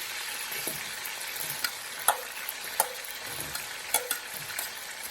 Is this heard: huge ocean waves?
no